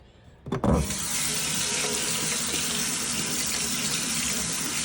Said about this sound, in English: I just hold it under the water like that and rinse it